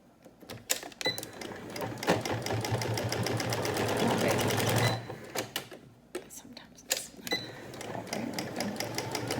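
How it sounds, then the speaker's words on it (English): A sewing machine stitching a pleated cloth face mask, running in a fast, even rattle for several seconds, then stopping for short bursts and handling noise, with a soft voice speaking nearby. "the best way to sew this hump area is to kind of push it through"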